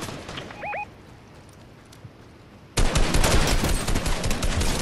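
A teammate fires in Fortnite. After a short quiet stretch with a faint electronic chirp, loud rapid gunfire suddenly erupts and keeps going as a dense, continuous burst nearby.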